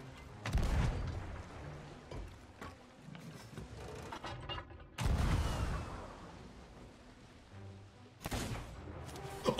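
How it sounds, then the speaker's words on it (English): Ship cannons fire in the pirate game Sea of Thieves, with two heavy booms several seconds apart and a third blast near the end. Each boom is loud and low, then trails off into a rumbling decay. "fire me straight up in the cannon"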